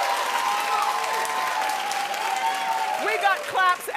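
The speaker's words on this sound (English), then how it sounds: "We got claps and a standing ovation" A studio audience on a daytime talk show applauds steadily, and then voices break in near the end as the clapping fades.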